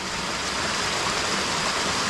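A waterfall in rural Khammouane, Laos, heard as a steady, dense broadband roar of rushing water with no breaks, fairly close and uniform throughout.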